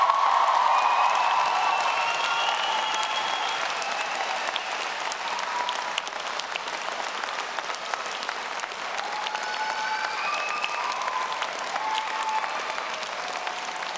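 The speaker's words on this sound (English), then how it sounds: "Let us now thank them with as much noise and applause as we can muster." A university graduation audience in Edinburgh applauds loudly, sustained thick clapping that starts strongest and settles into a steady roar, with a few faint whistles or cheers rising above it.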